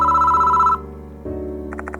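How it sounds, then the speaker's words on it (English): An electronic telephone ring in a school at night: a steady tone shifts pitch, followed by a rapid pulsing trill, loud and close with no voices. "Why is the phone ringing now?"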